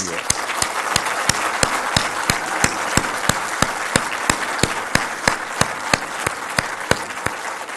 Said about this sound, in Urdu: زوردار تالی لگائیں ان کے لیے